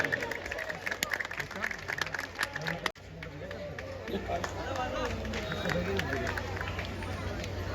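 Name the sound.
audience applause at a Ramlila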